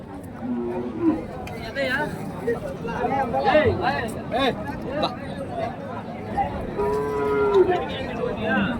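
Cattle lowing repeatedly at a busy Friday cow and bull market in Krishnagiri district, Tamil Nadu, several moos rising over a steady murmur of crowd chatter and nearby voices.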